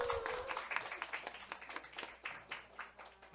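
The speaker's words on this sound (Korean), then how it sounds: "박수 한번 쳐주세요." A church congregation at a Christmas service claps together, a brief, moderately close patter of hands that fades as it goes on.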